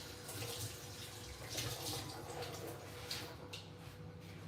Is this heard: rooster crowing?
no